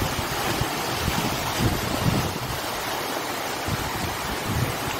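Water rushing through a half-opened gate, a steady broad roar of flowing water with wind buffeting the microphone, continuous and fairly loud throughout, with no voices.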